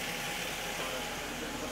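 A car engine idles steadily in the background, supplying electricity to a Renault 4 GTL being revived after leaving a barn; a continuous, even hum at moderate distance with no talk.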